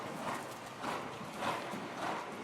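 Horse hooves clip-clop on the ground at a steady rhythm, about four paced beats, during a riding lesson; moderately loud with faint background noise and no talk.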